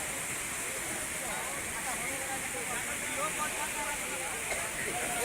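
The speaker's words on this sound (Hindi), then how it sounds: "कितना तेज बहाव यहाँ पर दिख रहा है" Fast-flowing flooded river after heavy rain in Bihar, a continuous broadband rushing hiss of water, steady and fairly distant, with a voice faintly speaking over it.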